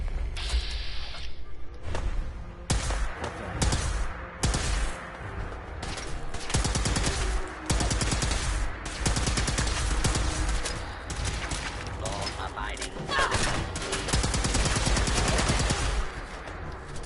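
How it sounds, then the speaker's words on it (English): Rapid bursts of automatic gunfire in Fallout 4 crackle continuously over clanking robot noise, dense and loud throughout with only brief gaps. "I can't hear you over all the gunfire."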